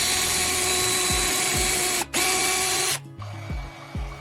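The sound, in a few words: drilling a hole along a toothbrush handle held in a vise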